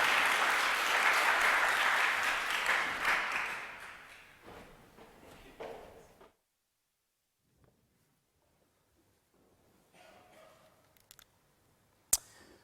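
An audience applauds to welcome Rasmus Nielsen, Director at the Reuters Institute, onstage at the Truth and Trust Online 2019 conference; sustained room-filling clapping fades out after several seconds, then near silence with faint movement.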